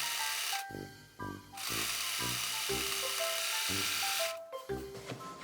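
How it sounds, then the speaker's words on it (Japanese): An overlock serger machine sews a shirt sleeve seam, running in loud steady whirring bursts that start and stop several times over a few seconds, with nobody talking. "そしたらここの部分にロックミシンをかけます。"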